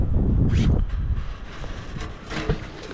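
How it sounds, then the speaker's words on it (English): Steady wind buffeting an outdoor microphone, a low rumbling roar that gusts and rises throughout, with no one speaking. "it's a little windy out here"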